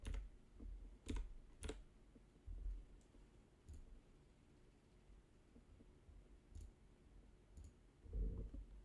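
Sparse keystrokes on a computer keyboard while entering a name in a Cardfight Vanguard game: scattered, fairly quiet clicks with irregular pauses and a few louder taps, alone without talk.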